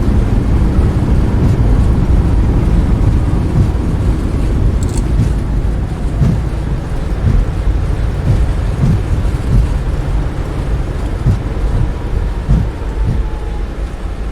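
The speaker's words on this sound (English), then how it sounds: "Reversers normal." A Boeing 737 MAX's thrust reversers roar during landing in Microsoft Flight Simulator 2024, a loud, dense, low rumble that holds steady and slowly eases over several seconds, with faint thumps underneath.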